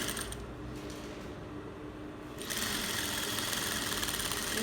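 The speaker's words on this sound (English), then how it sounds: "I'll be sewing on my 1 inch sewing allowance" A sewing machine stitches a seam with a 1 inch allowance, running at a steady whirring hum that picks up louder and faster partway through, close and continuous.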